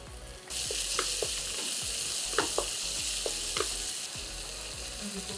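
Ginger juliennes and chopped tomatoes drop into hot oil for a restaurant-style dal fry, and a loud sizzle jumps up at once. A spatula ticks and scrapes against the pan in sparse, scattered strokes over the sustained hiss.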